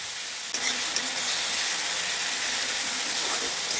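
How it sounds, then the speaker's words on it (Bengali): Garlic paste frying in oil for street-style Bengali ghugni: a steady, fairly faint hiss of sizzling oil after a brief knock, with no talk. "রসুন বাটাটা দিয়ে ভালোভাবে রসুনটাকে হয়ে নিতে হবে, ভালো করে রসুনটাকে ভেজে নিতে হবে।"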